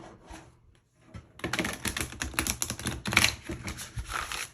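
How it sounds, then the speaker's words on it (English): Tarot cards shuffled on a table, a quiet rapid flurry of crisp riffling and tapping clicks that starts after a short pause and continues densely and close, with no speech. "So Caroline Miss, let's go ahead and shuffle this up."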